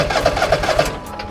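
A lawn mower engine on choke turns over with a brief run of rapid, even chugging pulses that stop abruptly after about a second.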